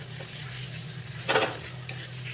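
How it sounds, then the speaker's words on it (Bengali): Teasel gourd stuffing with mustard paste and the gourd's seeds being stirred and sautéed in a pan, a low steady sizzle under a few scraping spoon strokes, with one louder clatter of utensil against metal midway. "এখন এগুলোকে আমি ভালো করে মিক্স করে একটু কষিয়ে নেব।"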